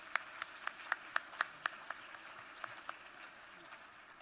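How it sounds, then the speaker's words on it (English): Applause at a ceremony honoring teachers and school-related employees of the year, heard as a run of distinct, evenly spaced claps that starts crisp and fades away over about four seconds, fairly quiet and sparse rather than a full crowd roar. "That does deserve a round of applause."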